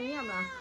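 A single drawn-out meow from a sick kitten that has stopped eating, high and wavering, rising then falling over under a second, close and fairly clear.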